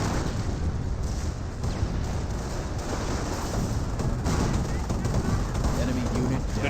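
Panzerschreck rocket launches and explosions from a Company of Heroes 1 battle, a dense, continuous roar of gunfire and blasts with scattered impacts throughout, while a voice talks over the combat.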